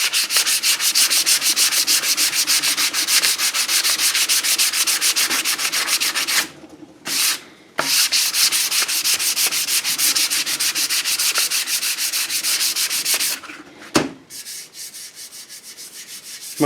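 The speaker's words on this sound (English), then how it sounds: "I'll add another skim coat of regular filler and resand it." Sanding body filler on a Mustang fender, a continuous close abrasive scrubbing rasp with brief pauses and a sharp knock in between, loud and alone.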